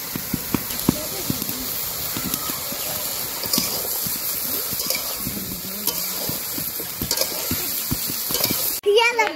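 Green chillies tipped into a hot frying pan beside dried chillies, a steady close sizzle and frying hiss with stirring scrapes and clinks, during village-style fish curry cooking; voices talk over it.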